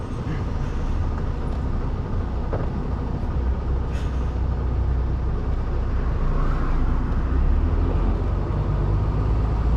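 A car passing on the road, heard from inside a moving vehicle as a continuous loud road and engine rumble, with no distinct pass-by peak standing out.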